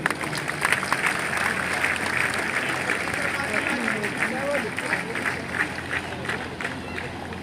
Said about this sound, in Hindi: तालियों से अभिनंदन कीजिए।